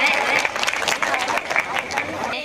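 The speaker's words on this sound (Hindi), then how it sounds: "एक बार बहुत अच्छी तालियां बजा करके इस मंच को आप बताएं।" An audience at a comedy poetry stage show applauds with quick, dense clapping, fairly loud and close, under a voice speaking over it.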